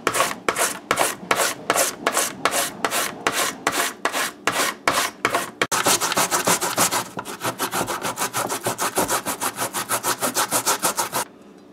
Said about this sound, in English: So as I'm grating this pumpkin here now